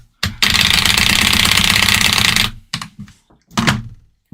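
Rapid keyboard key spamming during a frame-perfect Geometry Dash-style run, a dense burst of clacking lasting about two seconds, then a few shorter bursts of fast key presses, loud and close.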